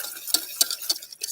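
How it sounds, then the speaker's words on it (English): A spoon stirs a boiling sugary binding agent for granola bars in a pot, with several quick, sharp scraping strokes in a near, bubbling kitchen. "You stir it down, it breaks down those bubbles, but allows it to keep boiling."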